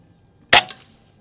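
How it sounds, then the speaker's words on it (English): A single sharp shot from an Umarex Zelos .22 caliber PCP bullpup air rifle at an outdoor range, loud and close, with a short crack and a brief decaying tail in quiet surroundings. "Do one more and then we'll do a 4-shot group"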